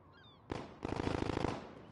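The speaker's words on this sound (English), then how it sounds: "Cause there are gunshots." Gunfire in Call of Duty: Modern Warfare, a sharp shot followed by a rapid burst of automatic fire lasting about a second, moderately loud in a quiet game scene.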